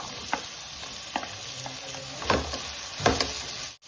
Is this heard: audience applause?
no